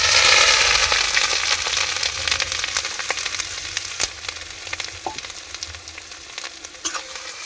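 Grated ginger and spices such as dried red chilli and bay leaf frying in a pan for vegetable khichdi, a steady close sizzle with scattered crackles and stirring scrapes, loudest at the start and easing slightly, with no talking.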